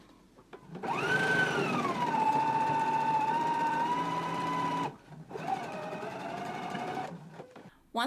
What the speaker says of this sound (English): Now I'm going to go ahead and stitch again right over the stitch just to reinforce it.